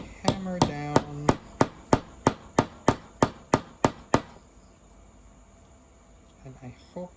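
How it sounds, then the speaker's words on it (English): Hammer blows striking a magnet slab while customizing a Transformers Seeker figure: about a dozen sharp, evenly spaced knocks over four seconds, close and loud, then a few faint taps afterward. "I'm just gonna hammer down."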